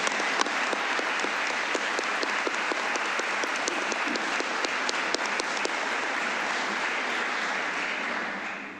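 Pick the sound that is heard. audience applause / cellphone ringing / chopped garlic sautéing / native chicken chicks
audience applause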